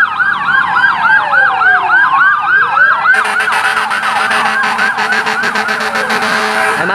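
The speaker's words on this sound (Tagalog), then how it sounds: "Ay, mga bumbero." Fire truck sirens wail at a large fire on Visayas Avenue, Quezon City, loud and close, with rising and falling sweeps that shift into a faster pulsing yelp partway through, with no talk.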